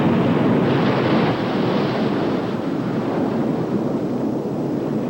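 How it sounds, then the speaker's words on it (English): Indian Ocean swell breaking on the shore at Grajagan Bay on the eastern tip of Java, a steady, loud, continuous roar of surf with some wind buffeting, no voices. "the Indian Ocean swell breaks upon the shore"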